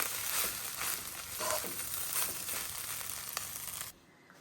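Fried rice mixed with coriander leaves in a pan, continuous sizzling with scraping, stirring strokes, close and steady, then cutting off abruptly near the end.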